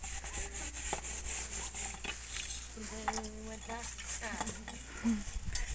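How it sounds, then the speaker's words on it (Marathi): Women scrub metal utensils by hand during a temple seva for a Narasimha Saraswati Maharaj jayanti, making steady repeated rubbing and scraping strokes with faint clinks while voices chatter in the background. "भांडी घासत आहेत"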